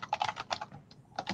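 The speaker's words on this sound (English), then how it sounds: "Sorry for the typing." Rapid bursts of keystrokes on a computer keyboard, close and fairly quiet, in short clustered runs with a brief pause in the middle.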